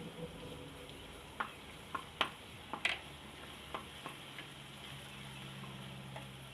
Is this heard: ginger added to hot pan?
yes